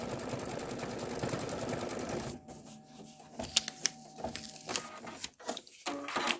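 An embroidery machine stitches satin fill for the base and top of a gas pump design, its rapid needle chatter running steadily and close, briefly dense and then settling into a choppier, pulsing rhythm.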